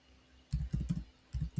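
Quick fingers tapping a computer keyboard in two short bursts of rapid keystrokes, close and clear over a quiet background.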